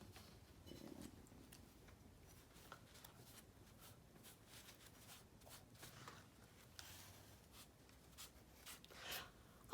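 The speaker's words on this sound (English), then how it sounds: "we're going to use a little piece of paper towel and wipe it off" Paper towel wipes wet paint off a pottery giraffe mug, faint soft scratchy rubbing strokes spread across a quiet stretch, close up.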